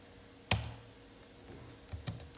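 Keys on a computer keyboard being pressed to enter a number: a few quiet, separate clicks close by, with one sharper tap followed by a short cluster of lighter presses.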